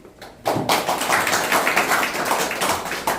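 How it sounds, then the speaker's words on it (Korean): An audience applauds at a founding anniversary ceremony of an amateur radio league, with sustained, dense clapping that starts abruptly and carries on steadily. "바로 박수."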